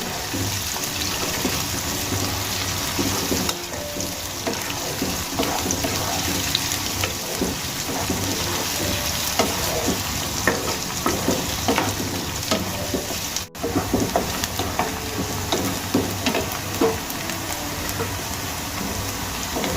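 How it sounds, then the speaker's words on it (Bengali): Sliced onions and slit green chillies fry in oil in a pan for a Bengali fish dish, a loud constant sizzle close up, overlaid with intermittent stirring scrapes and clatter, and no one speaking. "এবার খুব ভালো করে পেঁয়াজ আর কাঁচা লঙ্কা আমি ভেজে নেব।"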